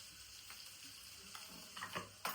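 Vegetables and mango fry in a pan with a soft, steady sizzle, punctuated by a few light clicks and stirring scrapes toward the end, quiet and close.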